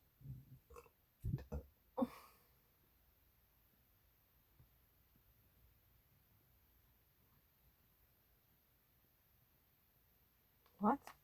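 A few short, close burps in quick succession near the start, then near silence before one more burp at the end.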